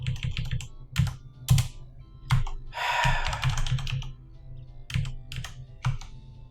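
Irregular clacking keystrokes on a computer keyboard, close and fairly loud, interrupted by a brief noisy burst near the middle, with a low hum underneath and no one speaking.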